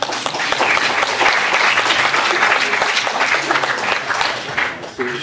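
A lecture audience breaks into sustained, close applause after a talk on monetary sovereignty, the clapping swelling and holding steady before tapering off near the end.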